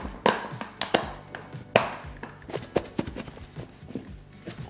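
Black pepper salmon rub being mixed by hand with a utensil for smoked Alaskan salmon, a run of sharp, uneven scraping and tapping knocks close up, with no talking.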